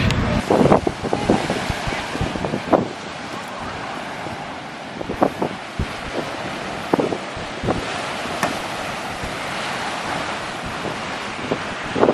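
Surf rolls onto a beach in a village in Samoa, with a broad continuous wash of waves, heavy wind buffeting the microphone and occasional louder gusts and splashes.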